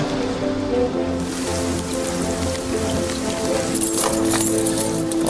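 Torrential rain pours down at Leeds railway station during a summer storm, a dense, loud hiss of drops drumming on surfaces with steady spatter throughout and sharper close splashes toward the end.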